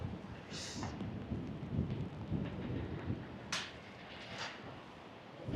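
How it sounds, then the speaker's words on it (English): Steady, dense rain pours down during flooding in Warsaw with a constant low rumble, a few brief bright splashes or gusts cutting through, no voices. "It is so bad with the rain"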